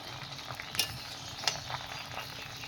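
Dried jujubes (kul) tip into an oiled pan and fry for a sweet-sour pickle, a low continuous sizzle punctuated by two sharp clinks and light patter of stirring, with no voices.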